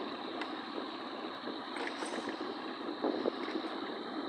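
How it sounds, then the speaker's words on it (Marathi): Heavy rain falling on a village road with water-filled potholes makes a steady, faint broadband hiss and patter throughout, with slight swells and no voices. "एकदम जोरदार पाऊस पडत आहे भावानो सकाळपासून."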